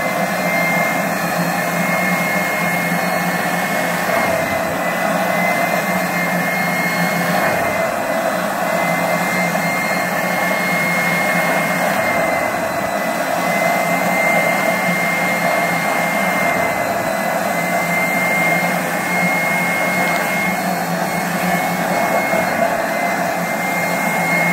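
A carpet cleaning machine runs a steady, loud whine with a rushing airflow roar as it rinses carpet using an acid rinse, constant throughout with no pauses and no talking.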